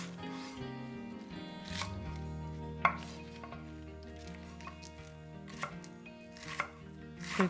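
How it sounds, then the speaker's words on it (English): A knife minces spring onion on a board in a few scattered, crisp chops at close range, set against a quiet background of soft sustained music tones. "Mince 70 grams of spring onion."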